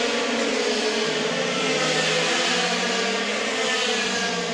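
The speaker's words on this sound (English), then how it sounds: "So the noise of the cars as they roar past our commentary position and into that turn 1" DTM race cars at the 2018 Budapest race roar past a trackside commentary position into turn 1, a continuous loud engine drone with shifting pitch and no voices.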